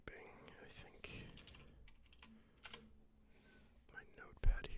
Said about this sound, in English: I'm going to be doing a little bit of typing, I think.